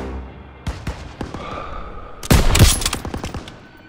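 Machine gun fire and other gunfire in the World War II shooter Call of Duty: WWII, a few scattered sharp shots followed by a loud, dense burst of rapid automatic fire that tails off into scattered reports.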